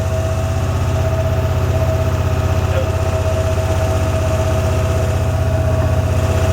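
An Amtex Marine 4047 APO machine's engine idles steadily, a constant low rumble with a faint whine above it, no talking.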